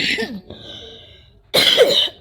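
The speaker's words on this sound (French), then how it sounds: "Excusez-moi pour la toux." Two harsh coughs, one at the start and a louder one near the end, separated by a short pause with a faint tone.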